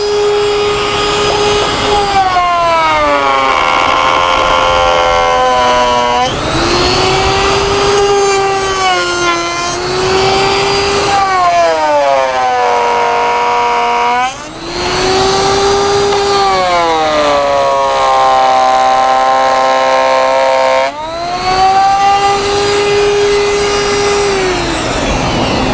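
A wood router cuts into aluminum with a loud, sustained high whine that dips and rises in pitch as the bit bites and eases off through several long passes, with no talk.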